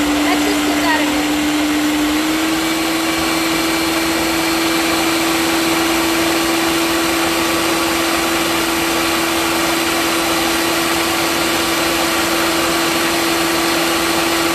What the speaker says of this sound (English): So it is going to blend. It's going to take a couple of minutes.